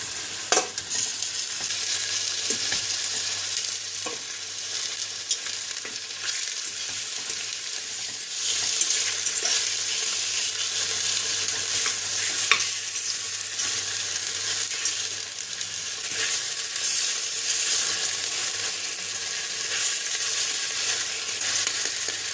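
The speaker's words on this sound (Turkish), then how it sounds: "Kızan yağımızın içine 600 gram parçetlerimizi atıp birkaç dakika kızartıyoruz" Steady crackling sizzle of 600 grams of meat chunks frying in hot oil in a pressure cooker, with occasional stirring scrapes, continuous and fairly close.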